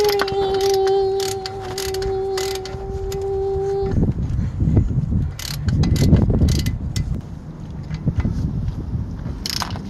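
Mechanical clicking and ratcheting while brake caliper bolts are tightened on a 2006 Ford Ranger XLT, a steady tone for the first few seconds, then irregular close clanks and ratchet clicks.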